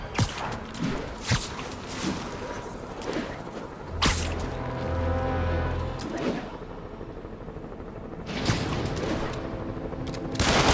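Sniper gunfire in the Spider-Man video game, sharp loud shots spread irregularly across several seconds amid impacts, a low rumble and game sound effects, with no speech.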